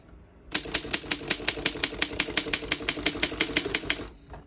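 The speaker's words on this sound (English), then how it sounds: "We're going to keep it on single for now and finish typing." A 1928 Underwood No.3 antique desktop typewriter being typed on, about twenty crisp, evenly spaced key strikes in a steady rhythm, close and clear, ending in a short pause with no talking.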